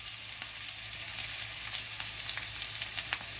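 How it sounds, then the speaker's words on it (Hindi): Onions sizzle in a little hot oil in a pan for a butter paneer masala, a steady close crackle and hiss broken by small pops and soft stirring scrapes, with no voices. "प्याज को हल्का थोड़ा कलर चेंज हुए तक फ्राई करूंगी मैं"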